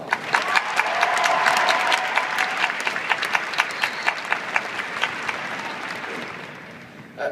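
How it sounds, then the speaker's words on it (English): Loud, sustained applause from an audience at a high school graduation, with a few sharper individual claps standing out near the front as the clapping gradually thins toward the end. "Let's give them all a round of applause."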